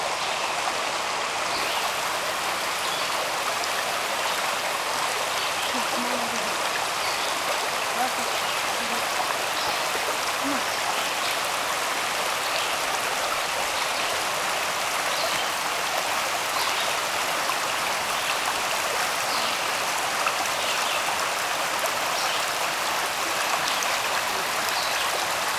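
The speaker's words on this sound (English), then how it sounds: "Well, here's Little Pigeon River." The Little Pigeon River in the Great Smoky Mountains flows steadily beside a picnic spot, a constant broadband rush of stream water that holds even and unbroken throughout with no voices.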